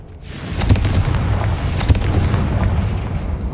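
A Confringo fire spell blast in the Hogwarts Legacy video game, a loud rumbling burst with sharp cracks near the start and a sustained roaring explosion tail.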